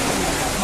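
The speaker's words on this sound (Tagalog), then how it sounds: "Biglang buhos ang ulan," Heavy rain pours down during a flood in the countryside, a dense, loud, continuous hiss of water with no breaks.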